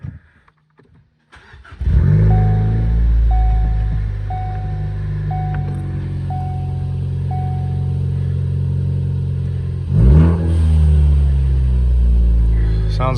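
A Ford Focus ST engine starts and settles into a steady, loud, close idle after its fault codes are cleared, with a brief bump in the sound near the end.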